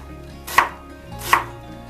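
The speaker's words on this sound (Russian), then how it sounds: "Лук нарезаем мелким кубиком." A knife cuts through onion on a cutting board in two distinct, crisp chops spaced under a second apart, close and moderately loud, with no talking.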